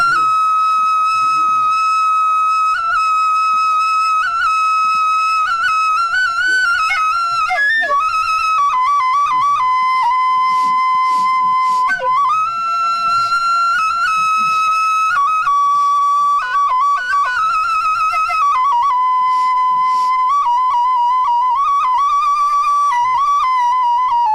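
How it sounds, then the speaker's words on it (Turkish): A düdük, a Turkish folk whistle pipe, played by an elderly man in Amasya: a loud, continuous piercing melody with trills and bends, sustained with barely a break for breath. "bu da düdük. Düdük denilen şey."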